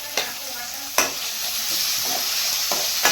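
A tomato frying in a pan for gravy hisses steadily up close, broken by a few sharp spatula scrapes and knocks against the pan.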